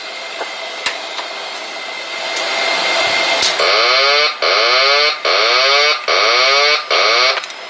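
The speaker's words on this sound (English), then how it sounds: "that sound is the autopilot disconnecting" A loud, repeating autopilot disconnect warning tone: a rapid descending warble sounding in bursts, layered over steady cockpit hum and rushing air noise.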